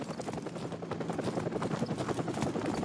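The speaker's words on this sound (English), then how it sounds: "Hold on, the helicopter's back." A Call of Duty 4 helicopter thumps steadily, its rotor beating in a continuous, fairly close rhythmic chop that fills the whole stretch without talk.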